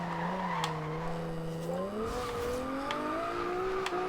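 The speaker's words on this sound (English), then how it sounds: "I'm just getting too much wheel spin coming out of a corner" Nissan 370Z in Forza Horizon 2 spinning its wheels, tires squealing steadily over a rising, revving engine for several seconds, loud and close with no talk.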